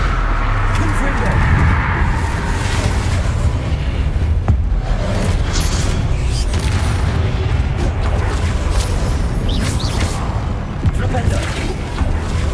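Repeated Confringo blast spells in Hogwarts Legacy erupt in booming explosions amid loud, chaotic combat noise, with several heavy thuds scattered across a constant, dense roar and spoken spell incantations over the top.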